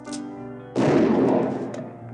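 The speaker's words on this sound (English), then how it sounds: "from the upstairs window, I shot several in the head." A single gunshot cracks sharply after a low musical tone, close and loud, its boom decaying over about a second in a tense fantasy horror setting.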